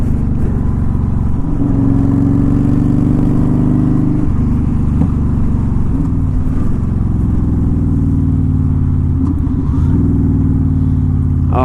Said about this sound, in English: I think it's a good ratio of exhaust noise to wind noise.